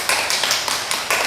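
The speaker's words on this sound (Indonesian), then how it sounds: "Sip, tepuk tangan." Brief burst of classroom applause from students, a scatter of quick claps over about a second with no talk.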